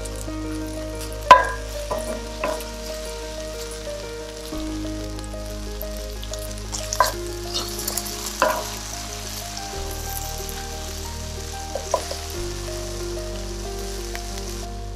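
Tomatoes stewing in a pan ahead of adding canned salmon, a soft continuous sizzle and bubbling with occasional clinks and stirring knocks against the pan.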